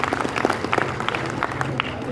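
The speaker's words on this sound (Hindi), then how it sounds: "ऐसे कारीगर भाई के लिए जोरदार ताली से" Applause from a crowd welcoming a craftsman at a Suthar community gathering in Jodhpur, with steady sustained clapping and crowd noise filling the space.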